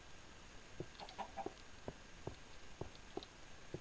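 Minecraft chickens on a chicken farm cluck in short, quiet, scattered bursts, several repeated calls over a low background hum, with no talk.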